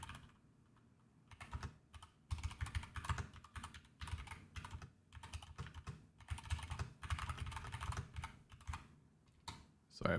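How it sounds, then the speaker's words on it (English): Rapid typing on a computer keyboard, dense bursts of keystrokes rattling on and off for ten seconds with brief pauses, close and fairly loud, no talking. "Sorry for all the typing."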